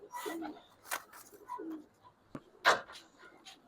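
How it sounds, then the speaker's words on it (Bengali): A female silver Bagh pigeon gives soft, intermittent coos, a few short faint bursts spread across a quiet coop-like background. "একদম সিলভার একটা কবুতর।"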